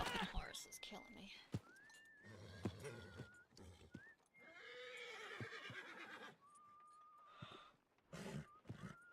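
A horse in a video game lets out several whinnies with rising and falling tones, mixed with clopping hooves and game noise, while a person talks quietly over parts of it.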